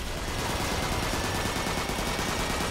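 Loud, unbroken rapid gunfire from a weapon in Transformers: Fall of Cybertron, a dense stream of shots with no pause and no voices.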